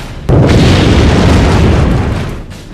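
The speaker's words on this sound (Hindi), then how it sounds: "न्यूक्लियर बम के चलते एक बड़ा धमाका होता है।" A massive nuclear bomb explosion erupts with a sudden deep boom, followed by a long, roaring rumble that slowly fades.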